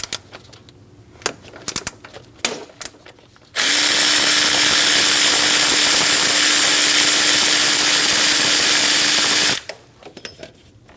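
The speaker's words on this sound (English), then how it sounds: "Using a 15mm socket, we're going to remove the 2 bolts for our accessory tensioner." A power tool with a 15mm socket spins out an accessory drive belt tensioner bolt on a Chevrolet Express 2500, one loud continuous whirring burst of about six seconds between quieter clicks and handling noises.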